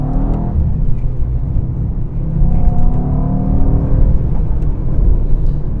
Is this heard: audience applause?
no